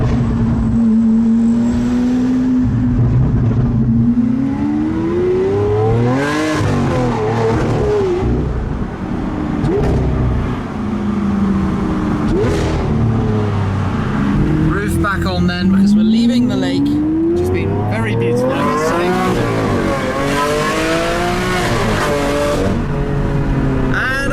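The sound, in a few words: Lamborghini Aventador SV engine noise and exhaust crackles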